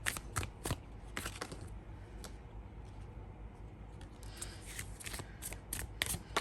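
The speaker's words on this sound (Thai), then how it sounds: "เดี๋ยวจะดูไพ่อีกสำรับหนึ่งให้นะคะว่ามีอะไรอยากจะบอก" A deck of tarot cards being shuffled by hand, with quick riffling bursts and soft clicks near the start and again toward the end, quieter rustling between them, close and fairly faint, no speech.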